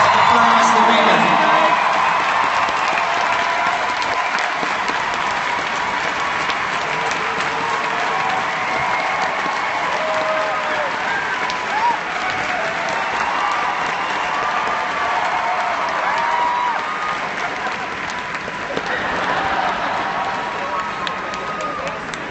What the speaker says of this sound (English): Ladies and gentlemen, big round of applause for Neil Patrick Harris.